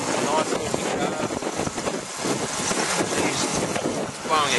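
Strong gale-force wind buffets the microphone outdoors beside a 1966 Ford Mustang Fastback, a continuous loud rushing roar with gusts and no clear speech.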